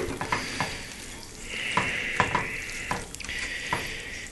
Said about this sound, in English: You're gonna stir it around in there.